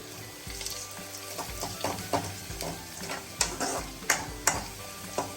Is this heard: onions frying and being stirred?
yes